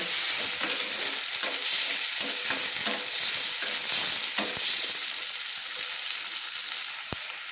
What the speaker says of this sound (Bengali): এই টমেটো কুচিগুলো আমি একটু তেলের মধ্যে ভেজে নেব